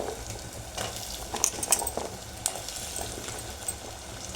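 Ivy gourd (donda) pieces frying with turmeric in a pan give a soft, steady sizzle, broken by intermittent spatula scrapes and light clinks of utensils against the pan.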